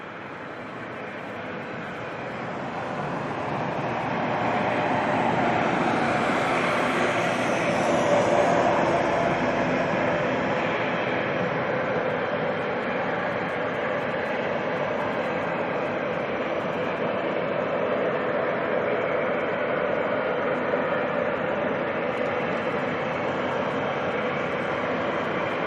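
A Boeing 777 jet airliner at Auckland Airport, engines sounding slightly off, builds into a loud sustained roar that swells then holds steady at a distance, with no talking.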